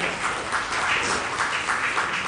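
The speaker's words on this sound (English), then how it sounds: "Let's have a big round of applause for that." An audience at an international seminar on Palestine applauds, a dense, steady burst of clapping throughout.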